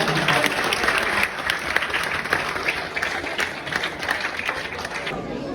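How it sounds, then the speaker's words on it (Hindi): A crowd applauds with dense, sustained clapping that carries on steadily, with voices underneath, at a university poetry mushaira competition. "तालियां तालियां"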